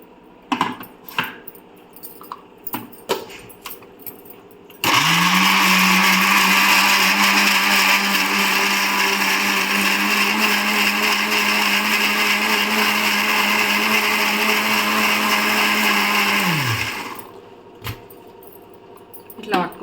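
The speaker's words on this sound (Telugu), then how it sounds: "టమాటాలు, ఒక 2 టమాటాలు, కొన్ని పచ్చిమిర్చి, అల్లం వెల్లిపాయ పేస్టు, కొత్తిమీర, పుదీనా అన్నీ వేసి మిక్సీ పట్టుకోవాలి" Mixer grinder blending tomatoes, green chillies, ginger-garlic paste, coriander and mint for a paneer dum biryani. A loud, steady whirring motor runs for about twelve seconds, then cuts off, with handling clatter before and after.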